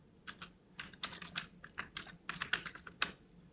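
Rapid, irregular keystrokes on a computer keyboard while C program code is typed, with brief pauses between bursts of clicks, close and fairly quiet.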